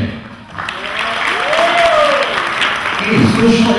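A crowd applauds steadily while a voice rises and falls over the clapping, with occasional cheers mixed in.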